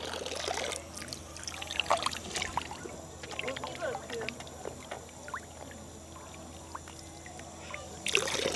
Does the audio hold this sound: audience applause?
no